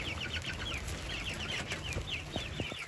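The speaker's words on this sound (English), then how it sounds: "My cute little bearded chicken." Soft, repeated clucking from a bearded chicken, steady through the clip, with a faint background hiss of rain.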